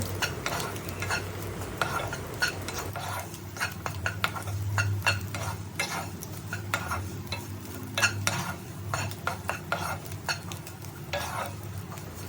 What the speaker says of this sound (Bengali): আর একটু ভালোভাবে ভাজা ভাজা করে নেবো